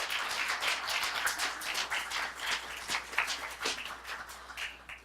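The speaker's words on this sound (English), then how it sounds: "Let's give a round of applause." A crowd applauds a slam poet at a college visiting-writer event, producing a sustained, lively patter of many hands clapping for several seconds, moderately close and free of speech.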